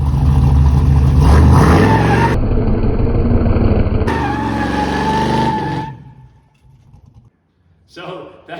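Hot rod truck engine revving hard while power braking against a bed clamp, with a loud sustained roar for about six seconds, a sudden pitch change partway through, then a fade to near quiet before a brief burst at the end.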